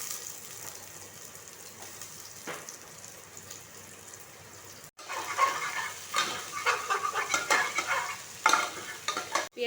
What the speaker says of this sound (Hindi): प्याज पकेबा